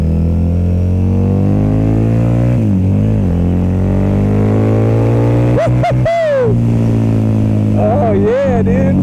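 A 2014 Harley-Davidson V-Rod motorcycle's engine drones loudly while riding, with the revs climbing and falling in a few quick throttle blips over constant wind and road noise.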